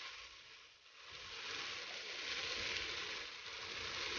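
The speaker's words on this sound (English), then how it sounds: "So I'm going to now add the meat broth." Seasoned meat broth poured into a hot soup pot where bits are sticking to the bottom, giving a steady broad sizzle and hiss that swells after a brief dip and holds loud and close.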